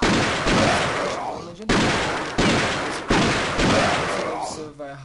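Pistol gunfire from the Counter-Strike Nexon Zombies video game, four loud sharp shots spaced under a second apart, each with a decaying tail, while someone speaks briefly.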